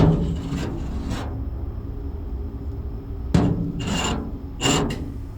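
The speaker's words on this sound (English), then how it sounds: "a slow scratching sound drifted across the roof" Slow scratching across a car roof, rough rasping strokes that come in a few separate drags over a steady low rumble, fairly close.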